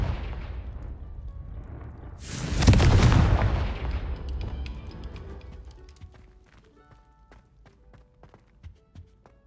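A Confringo fire spell detonates in Hogwarts Legacy, a single loud, close fiery blast that swells and then crackles away into a long fading rumble, with small clicks and pops trailing behind.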